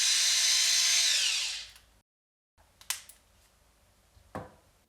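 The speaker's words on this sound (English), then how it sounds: "It's an automatic sesame seed grinder, and with just a push of this button, it grinds it and dispenses it for you" An automatic sesame seed grinder whirs with a high, steady motorized buzz for about two seconds before winding down, followed by a few faint clicks and taps close by.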